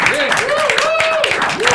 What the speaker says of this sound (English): So let's give a nice round of applause.